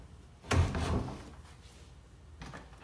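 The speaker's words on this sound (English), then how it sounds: "Closing the door." A door in an abandoned Shari's restaurant in Salem, Oregon swings shut with one solid, fairly close thud, followed by quiet room tone and a faint second knock near the end.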